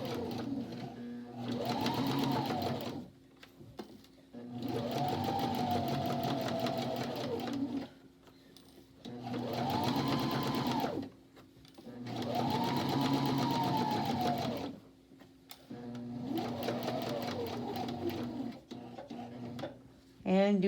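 Sewing machine stitching a seam on a fabric face mask, running in five sustained whirring bursts of several seconds each, separated by short pauses.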